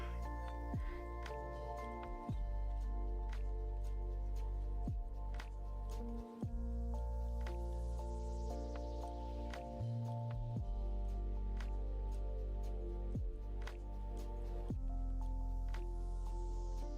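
A paintbrush dabs watercolor paint and water onto paper, making soft, wet, irregular taps and squishes over a steady background of music.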